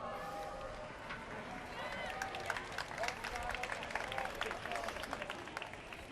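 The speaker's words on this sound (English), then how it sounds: "More applause from the crowd" A crowd claps steadily in sustained outdoor applause at an Armistice remembrance event in Amiens, a dense patter of many hands that swells slightly and carries on throughout.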